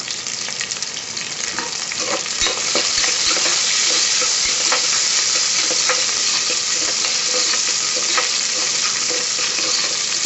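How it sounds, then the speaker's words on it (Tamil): Onion and garlic sauté in a pan with curry leaves, mustard seeds and cumin, a steady loud sizzle with scattered stirring scrapes running close and continuous throughout. "இப்போ வெங்காயம், பூண்டு நல்லா போட்டு வதக்கிக்கலாம்."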